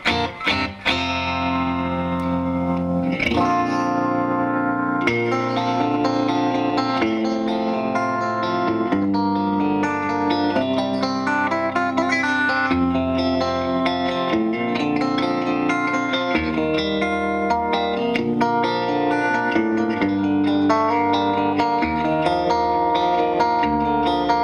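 A clean electric guitar plays sustained chords and melodic notes through a Grindrod Pendragon PGC40 amplifier and C212 cabinet, warm and full, steady in level without any talking.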